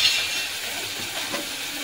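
Ginger paste hitting hot oil in a pan for a Bangladeshi hilsa fish head curry gives a steady, close hiss and sizzle, faintly crackling, with no voices.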